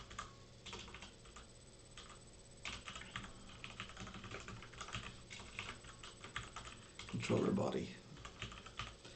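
Someone types an object name on a computer keyboard, keys clicking in quick irregular runs, close and light, while someone speaks throughout and a louder thump lands near the end.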